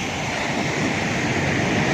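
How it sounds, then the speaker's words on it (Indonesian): Steady surf roars continuously at Pantai Pangi, a quiet unspoiled beach in Blitar, East Java, as a broad, even wash of waves with no voices. "Kita di Pantai Pangi, Blitar."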